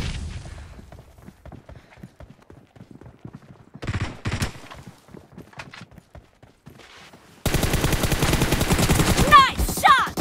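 Rapid gunfire bursts from a mobile shooter video game, loud and dense in the final few seconds after a quieter stretch of scattered shots and footsteps-like taps.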